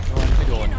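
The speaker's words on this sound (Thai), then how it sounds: "ยังอยู่ผมจะสแปมระเบิดเข้าไป" Grenades going off inside a room in a video game, a dense burst of heavy booming blasts and rattling impacts packed into under a second, loud and close.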